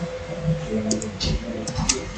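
Keys tapped on a computer keyboard while text is typed in Photoshop, giving a few scattered light clicks at close range over a steady low hum.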